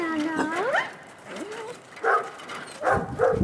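Upset dogs whimper, yip and whine at an elk, close and loud, with rising and falling cries in short bursts and a few sharper yelps toward the end.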